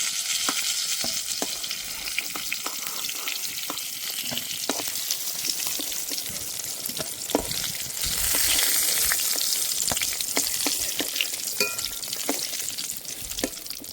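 Pointed gourd (potol) fries in a pan with a steady, close sizzle, marked by scattered clicks and scrapes of stirring and no talking.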